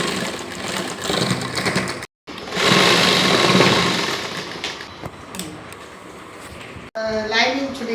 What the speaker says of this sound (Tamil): எங்கள் பாப்பா வீட்டு மிஷினில் தான் நான் இப்போ தச்சுருக்கேன்